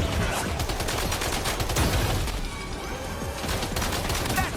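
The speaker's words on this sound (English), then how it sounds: "You should be capable of shooting while driving." Steady gunfire while driving in the game Death Stranding 2, rapid shots rattling over the rumble of a moving vehicle in a continuous, close barrage.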